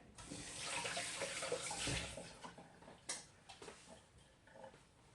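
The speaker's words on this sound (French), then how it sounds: "je vais me laver les mains" Water running from a tap as hands are washed, a soft, fairly quiet hiss and splash that is fuller at first, then thins into intermittent splashes and drips.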